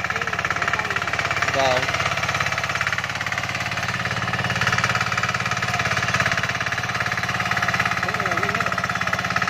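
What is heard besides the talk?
Trâu Vàng diesel tiller engine running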